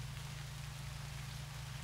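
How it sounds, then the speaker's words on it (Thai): Steady rain falls over a rice harvest field, a continuous dense hiss of drops with a low droning hum underneath, with no voices. "ฝนตกไปแล้ว"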